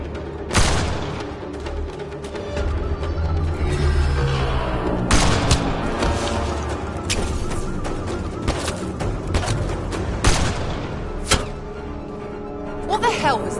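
Gunfire in the video game Mass Effect Andromeda, with rapid bursts of shots, booms and thuds at close range and shouting voices mixed in.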